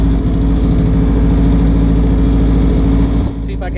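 A vehicle engine idles steadily with a loud low rumble close by, holding even for several seconds before a brief dip near the end.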